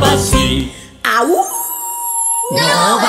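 In a Spanish children's song, a voice imitates a wolf howl with a rising and falling sung tone between bursts of lively singing, loud and close.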